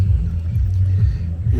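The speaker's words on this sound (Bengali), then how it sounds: "নৌকা স্টার্ট করা হলো" Boat engine running at a low, steady rumble, close and loud, with no voices.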